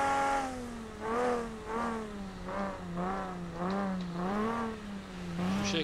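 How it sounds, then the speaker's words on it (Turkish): A red Nissan GT-R in Euro Truck Simulator 2 revs its engine and exhaust in repeated rising and falling pulses, a steady tonal drone swelling about six times, loud and close with no talk. "Bir egzoz sesi bir dinleyelim"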